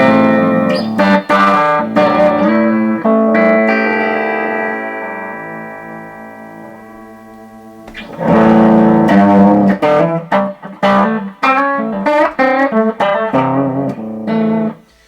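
Electric guitar run through a Dunlop distortion effects pedal: a sustained, shimmering chord fades slowly, then bursts of strummed, processed notes return loudly with no talking.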